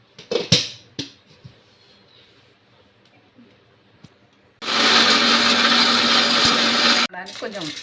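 A kitchen mixer grinds chillies, tamarind, garlic and salt into a spice powder for a drumstick-leaf podi. A few clicks and knocks come first, then a loud whirring grind runs for about two and a half seconds before stopping abruptly.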